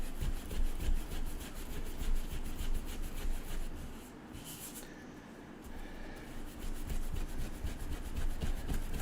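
Vigorous rubbing of a stamped glue pad during a stamping class, a steady, loud scrubbing friction that keeps going with a short softer lull in the middle.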